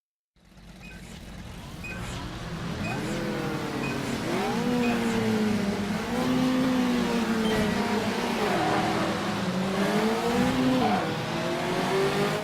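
A 1970s Puma GTE Brazilian sports car races at Velo Cittá in the Automobilista racing game, its engine revving loudly and continuously as it climbs and drops through the gears.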